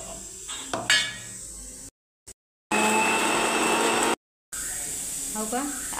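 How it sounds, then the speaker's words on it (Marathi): An electric mixer grinder whirs loudly in short bursts as it grinds garlic, green chili and coriander into a paste for urad dal curry. Quieter kitchen clatter comes between the runs. "काही मिक्सरमध्ये वाटून घ्यायचं."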